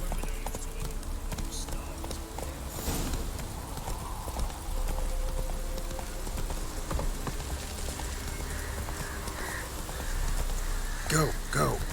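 Hooves of a horse in The Witcher 3 clip-clop in a steady rhythm throughout, with a brief whinny, crows cawing in the background and a rider's voice urging it on.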